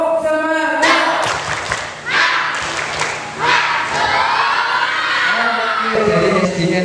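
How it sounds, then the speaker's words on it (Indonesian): Schoolchildren on a school trip perform a rhythmic spirit clap, a loud crowd of young voices shouting and clapping together in bursts, close and energetic. "Sedia tepuk, siap, tepuk semangat."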